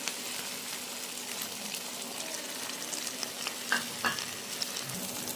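Mustard paste being mixed into taro paste in a hot pan, heard as a continuous oily sizzle with a couple of soft scraping strokes near the end, close and moderately quiet.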